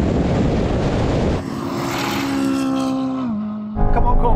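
A Corvette and a Ferrari 458 Speciale launch hard off the line, engines rising sharply in pitch through one gear, a brief dip at the shift, then a fresh burst of loud revving.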